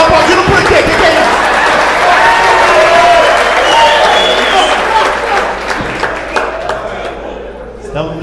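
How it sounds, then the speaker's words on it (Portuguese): Audience at a stand-up comedy show in Rio Verde breaks into sustained, dense applause mixed with crowd chatter and voices, loud and steady before gradually thinning out toward the end. "Você tá aplaudindo por quê?"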